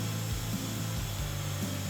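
Wood-Mizer HR120 horizontal resaw cutting wood, its blade pressed by guide rollers, giving a steady loud machine drone with a low hum that dips and shifts in pitch as the cut load changes.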